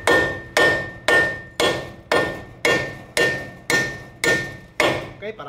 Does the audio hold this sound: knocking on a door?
no